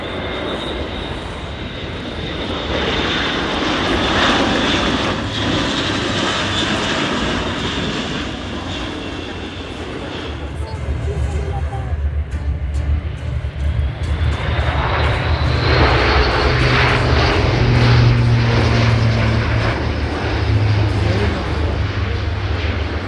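A propeller aircraft flies tight aerobatic manoeuvres at the Le Temps des Hélices 2025 airshow, its engine droning loudly and steadily with the pitch rising and falling as it passes, while an announcer commentates over a public address.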